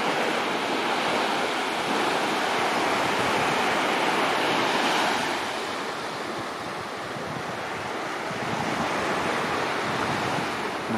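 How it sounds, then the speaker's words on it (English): Surf washes steadily onto Ao Cho Beach on Koh Samet, Thailand, a full, rushing roar that swells and eases with wind buffeting the microphone. "Just a brief little walk down to this beach. And this is Oucho Beach."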